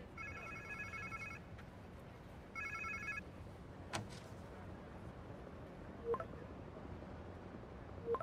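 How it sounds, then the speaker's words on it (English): Two bursts of electronic phone ringing in Marvel's Spider-Man 2, each about a second long and spaced a second apart, moderately loud over a low ambient game rumble, followed by a few faint clicks and thuds. "Sounds like somebody's phone."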